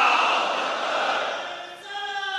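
A large crowd at a Muharram majlis gathering shouts a religious slogan in unison, a loud dense roar of many voices that swells, dips briefly and rises again into a sustained chant.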